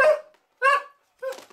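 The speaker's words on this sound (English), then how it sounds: "Hey, what are you barking at?" Three sharp dog barks, evenly spaced with short silences between them, close and fairly loud.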